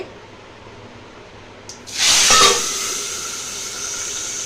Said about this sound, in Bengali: কাঁকরোলটা দিলেই কিন্তু তেলটা ছিটাবে